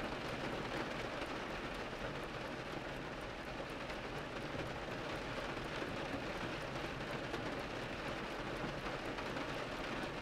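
Steady rain streaming down storefront windows of an antique shop, a continuous rushing, crackling hiss that stays even and close throughout with no voices.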